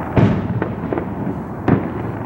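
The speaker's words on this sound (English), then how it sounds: "looking over at the fireworks blowing off above our neighbors' houses." Fireworks bursting above neighborhood houses, a loud close boom followed by scattered fainter pops and crackles, then another sharp blast against a continuous rumbling background.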